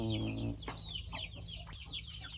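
Chickens cluck close by on a small farm where ducks are also raised, several overlapping calls over a low background hum, with a brief voice at the very start.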